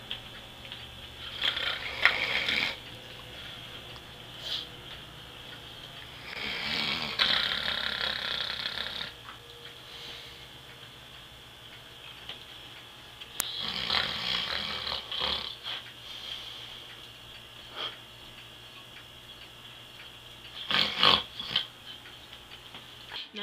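A man snores while asleep at night, slow rasping breaths rising and falling in several long bursts spaced a few seconds apart, fairly faint against a low steady room hum.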